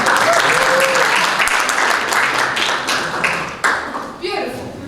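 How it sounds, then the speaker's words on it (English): A workshop audience claps together in a sustained burst of applause that gradually thins out toward the end, with a voice faintly audible underneath. "Maybe an applause?"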